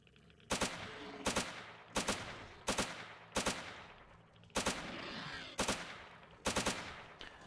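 Gunfire in S.T.A.L.K.E.R. while shooting at enemies: seven loud, sharp shots, some in quick doubled bursts, spaced about a second apart with brief ringing decay between them.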